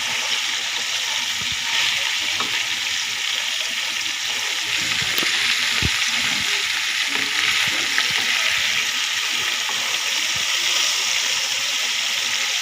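Large pieces of surma fish frying in oil in a pan, a loud continuous close sizzle and crackle that holds steady throughout with faint occasional clinks and no talk.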